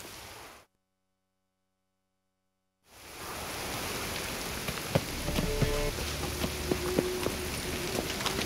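Steady rain falls in The Witcher 3 after a brief silent gap, a dense hiss of drops on surfaces with scattered sharper patters, continuous and fairly loud with no talking.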